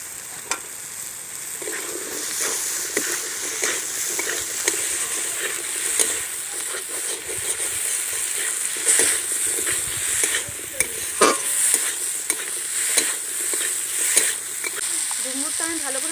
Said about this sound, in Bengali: ডুমুরটা আমি ভালো করে কষে নিয়েছি।